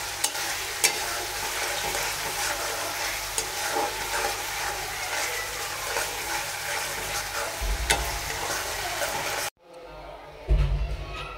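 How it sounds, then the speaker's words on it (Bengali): Beef is stirred into a spiced masala for a bhuna curry, sizzling loudly and steadily with scraping stir strokes up close, then cutting off abruptly to quieter kitchen noise near the end. "এখন আমি মাংস দিয়ে দিব।"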